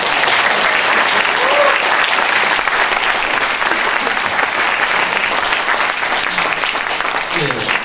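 Loud, sustained applause from a lecture audience at a Seoul talk on justice in Korean society, dense clapping filling the whole stretch with a few faint voices underneath.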